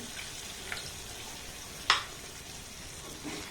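Grated carrots simmer in milk in a pan, giving off a soft, steady sizzling hiss with one brief sharp clink of a utensil midway.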